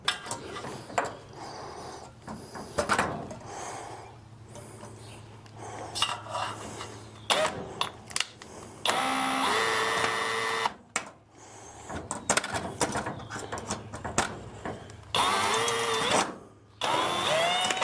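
A power drill whines in several bursts, drilling holes in a Sonex aircraft, separated by clinks and rattles of metal parts, Clecos and tools being handled close by.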